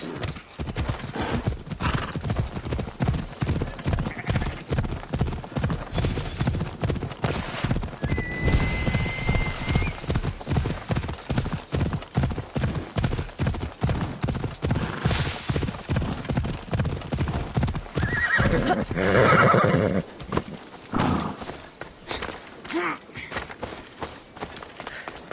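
Steady galloping hoofbeats of a ridden horse in Assassin's Creed Odyssey drum on in a fast, even rhythm for a long stretch, with a whinny near the end.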